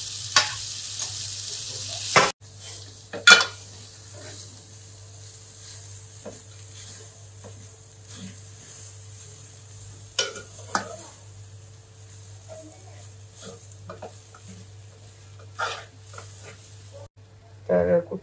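Grated fresh coconut roasting in a pan for Malvani mutton masala, a low steady hum with occasional scraping stirs and clinks, a voice speaking at times.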